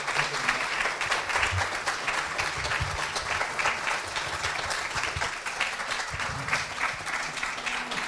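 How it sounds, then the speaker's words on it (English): An audience at a lecture gives a steady, dense round of applause, many hands clapping continuously at a moderate distance for several seconds. "Let's give William one more round of applause."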